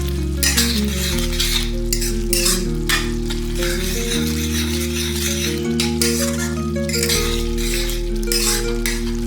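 A Kathiyawadi-style peanut bhujiya curry with MDH Kitchen King masala is stirred in a hot pan, making a loud, continuous sizzle. A spoon scrapes and clinks against the metal in repeated strokes close by, with no speech.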